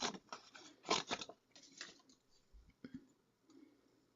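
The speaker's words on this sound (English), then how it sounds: "now I'm going to bring in my paper snips and just cut around the banner" Paper snips cut around a die-cut paper banner in a craft project, a run of quick crisp snipping clicks that slows into a few sparse snips, close and quiet, with no talking.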